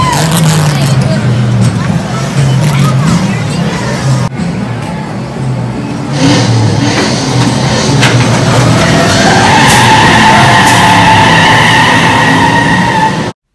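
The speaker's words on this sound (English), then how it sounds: "these are the coolest sound effects I've ever heard on a coaster" Hot rod engine sound effects roar on the Lightning Rod roller coaster, loud revving and rumbling that rises and shifts in pitch over crowd chatter and speech throughout.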